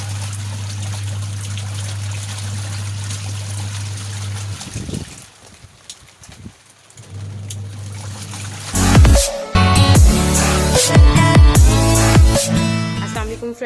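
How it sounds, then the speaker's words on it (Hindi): Rainwater trickles and splashes steadily, then goes quiet briefly before a louder burst of pouring, splattering water close by. "ये बारिश का पानी"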